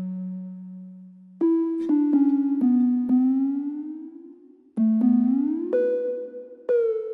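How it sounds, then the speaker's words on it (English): A simple synth melody, shaped with EQ and reverb, plays stepping and gliding notes that ring out with a softer, airier tail, in short phrases separated by brief pauses. "Then I added this EQ and some reverb to make the melody sound like this."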